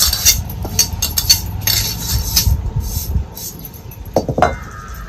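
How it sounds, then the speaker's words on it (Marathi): An iron kadhai goes onto a lit wood-fire chulha with a run of close metallic clanks and knocks, then a brief ringing scrape near the end. "आता कढई त्याच्यावर तापाय ठेवते"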